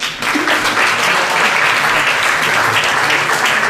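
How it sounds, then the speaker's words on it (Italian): Dense, steady applause from an audience at an Italian literary award ceremony, the 2018 Premio Prunola, fills the room at close range and holds at full loudness without a break. "faremo un nuovo applauso per loro"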